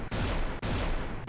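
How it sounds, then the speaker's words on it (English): A gunshot sound effect gives loud, dense bursts of broadband blasts. Two or three rapid volleys are split by brief gaps, with no voices. "Gunshots and a clap."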